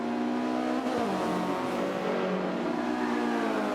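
Honda Civic race car in a touring car championship round, engine note loud and steady as it takes a corner, pitch dipping and rising with throttle, with the drone of other engines behind it.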